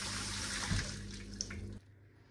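Hands being washed under a running kitchen tap, a steady close rush of water with small splashes that stops abruptly near the end.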